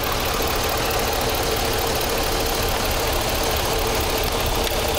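A car engine runs rough while water is sprayed around the intake to find vacuum leaks on both banks, giving a steady, close, loud broadband drone with uneven knocking pulses throughout and no talking.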